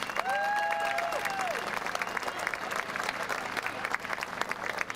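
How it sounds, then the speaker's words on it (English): At a school pep fest, a crowd claps for a cameraman, a dense burst that thins into scattered, individual claps, with a sustained tonal note sounding briefly near the start. "Let's give Bruce a round of applause."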